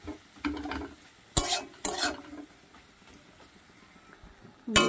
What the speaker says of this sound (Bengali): ভালোভাবে কষতে হবে যাতে মশলা থেকে তেলটা বেরোয়।